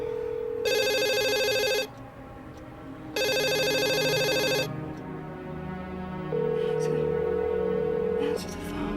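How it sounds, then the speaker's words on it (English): A telephone rings in two long electronic bursts, loud and close, with a quieter tone sounding later between them. "Answer the phone."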